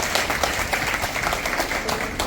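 An audience at a district conference of an association of clubs applauds steadily for about two seconds. The clapping is dense and even, with no talk over it.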